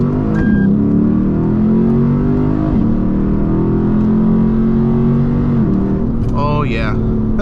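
A Lexus IS F V8 running E30 fuel roars through a hard first-gear pull, its engine note climbing steadily and loud from the driver's seat before easing off, with a voice speaking over it.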